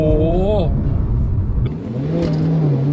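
A Subaru WRX with a CVT gearbox revs briefly as the accelerator is pressed lightly. The engine surges up and then eases to a steady hum, and someone talks over it.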